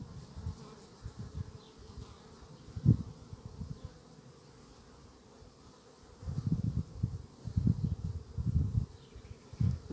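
Honey bees buzz around a hive of a fast-growing swarm colony, a low steady hum rising into several louder bursts as bees pass close by, with no voices.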